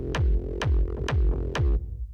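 Dark techno kick drum mixed with a deep bass, four heavy thumping hits at a steady pulse, each with a sharp click and a booming low tail over a sustained bass drone.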